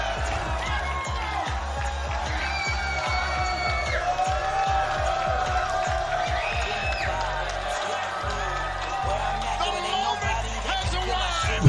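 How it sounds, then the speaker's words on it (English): Cheering wrestling crowd in an arena, a steady roar of many voices with whoops rising and falling throughout, loud and sustained under scattered talk. "Kind of feel like we should pipe in some crowd noise for this one, though."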